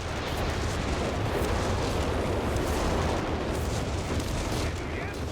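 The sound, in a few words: artillery shells landing in video game Company of Heroes 3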